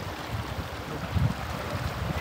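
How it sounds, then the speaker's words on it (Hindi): Strong river water rushes over a flooded stretch of the Manali Leh Highway, a dense continuous roar close by with brief surges and no voices. "ये पानी का बहाव बहुत ज़्यादा है यहाँ से"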